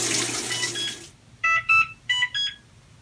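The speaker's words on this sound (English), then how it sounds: "if you heard that beep, that means it's at the end" A Maytag Bravos washer gives its end-of-cycle signal, a series of clear electronic beeps in quick pairs that follow a fading hiss of water, heard close and alone.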